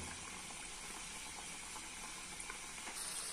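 Mini samosas frying in hot oil on a medium flame, a steady, faint, even sizzle and bubbling hiss running without pause.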